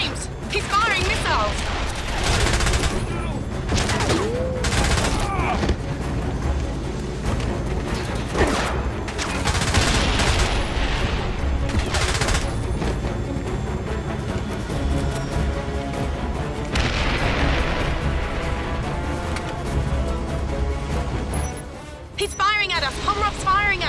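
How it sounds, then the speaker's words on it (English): Missiles being fired in the James Bond 007 Blood Stone game during a chase, with a continuous loud barrage of blasts, booms and engine roar, and voices talking over the action. "James, he's firing missiles."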